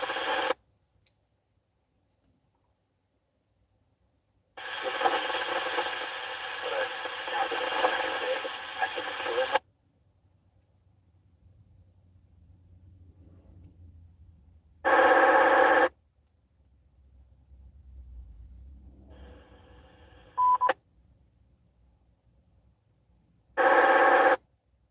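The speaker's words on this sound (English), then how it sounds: "So I'm just flicking around the channels." A Yaesu FTM-400 radio flicks through channels, giving loud bursts of static and brief snatches of received signal separated by quiet gaps, with faint low handling noise in between.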